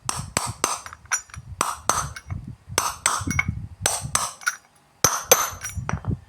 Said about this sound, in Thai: เราก็ใช้แกนโชกนะครับ มันจะพอดีนะครับ ค่อยๆตอกลงไปนะครับ